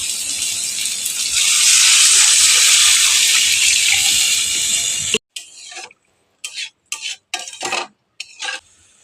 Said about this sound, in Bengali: এখন এর উপর আমি দিয়ে দেবো নারকেলের দুধটাকে।